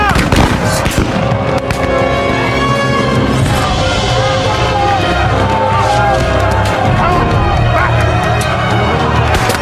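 Dense, loud battle din from a movie scene, with rapid gunfire and heavy artillery blasts layered over shouting crowds, continuous and chaotic throughout.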